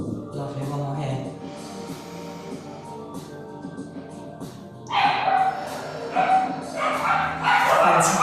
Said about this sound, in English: Apologies if you can hear the dogs in the background.